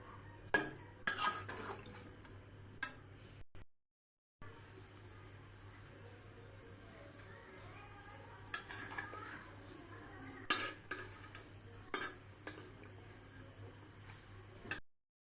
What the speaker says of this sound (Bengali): এখন সবজিটাকে সুন্দর করে উপর মিক্স করে মিশিয়ে দেব, যাতে মশলাটা সব সবজির গায়ে মিশে যায়।